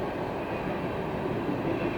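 A freight train passes a railroad crossing, a close, loud, continuous rumble and rattle of rolling cars holding steady throughout, with no voices.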